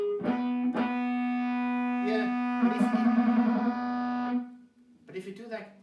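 Stratocaster electric guitar ringing harmonic overtones, flageolet tones sustained through effects with a strong steady pitch, picked notes breaking in between, and a brief voice near the end.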